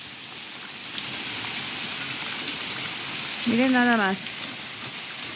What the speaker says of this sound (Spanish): está cayendo hielo